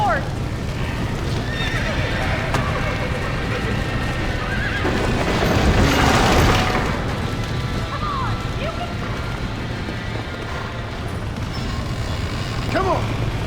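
A horse in the game Red Dead Redemption whinnies and neighs several times over clip-clopping hooves, with a loud burst of noise midway and shouting voices throughout.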